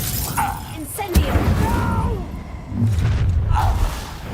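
An Incendio fire spell is cast in the Hogwarts Legacy game. It lands as a sudden sharp burst with a shattering crackle, followed by rumbling combat effects, while game voices sound around it.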